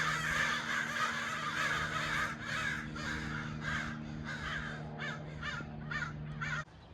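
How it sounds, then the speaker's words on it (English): Crows caw repeatedly in the distance, a series of harsh calls that quicken toward the end, over a steady low hum of background noise. "And even from this spot, I can still hear those birds."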